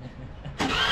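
A small Nepali taxi engine starts abruptly, jumping from quiet background into a steady, loud running drone close by.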